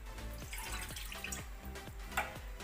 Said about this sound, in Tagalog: ilalagay natin yung ating tubig